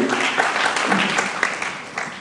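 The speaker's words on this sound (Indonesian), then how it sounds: "Tepuk tangan untuk Talkfusion Bapak Ibu." Audience applause at an IT cloud services associates meeting, a brief burst of dense, steady clapping from a crowd in a hall.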